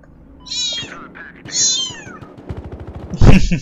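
Two drawn-out cat meows ring out in Battlefield Hardline, followed by a rapid burst of gunfire and a final loud bang, game-like and close.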